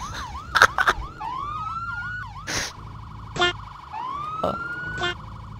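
A wailing police siren in Garry's Mod rises and falls repeatedly, with sharp bursts and clicks cutting in, loud and close.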